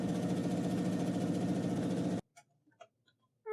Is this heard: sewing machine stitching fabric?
yes